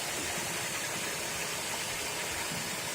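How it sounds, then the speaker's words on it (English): A 2004 Chrysler Town and Country minivan engine runs steadily, a constant broadband hum and whoosh with no distinct revs, recorded close for a few seconds without speech. "for a minivan, it sounds pretty good when you rev it up."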